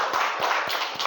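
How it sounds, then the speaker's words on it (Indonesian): Students in a classroom clap for a presenting group, a handful of hands giving short, fairly regular claps with a slight rhythmic pulse, moderately quiet and close. "tepuk tangan untuk kelompok 6"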